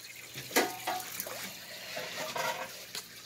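Waterdogs, or mudpuppies, are poured from a container into aquarium water, giving a run of splashes and trickling pours, with a sharp splash early on and more sloshing bursts after it, close and fairly quiet.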